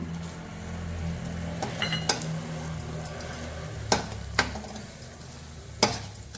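Dry fruits roasting in a pan with semolina for shira, stirred by a spatula that scrapes and knocks against the metal in several distinct clinks over a steady low background, with no voices.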